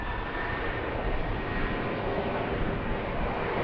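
An airplane at Baltimore-Washington International Airport runway, a loud, steady broadband engine roar that stays close and constant throughout, with no voices.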